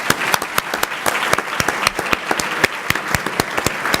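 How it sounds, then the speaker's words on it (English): A ceremony crowd at the Young Man and Young Woman of the Year awards gives a sustained round of applause, with loud individual claps cracking out sharply over the general clapping throughout. "One more round of applause."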